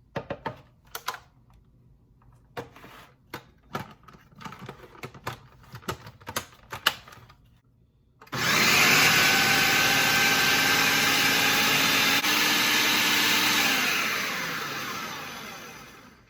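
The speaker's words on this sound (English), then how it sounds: "let's go ahead and grind it into a very fine paste" A mixer grinder grinds ginger and garlic into a fine paste, starting suddenly after scattered clicks and taps, then running as a loud steady whir that slowly winds down near the end.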